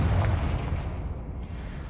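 A Confringo fire spell detonates in Hogwarts Legacy, a heavy booming blast at the start whose low rumble decays over two seconds, loud and close with no talk.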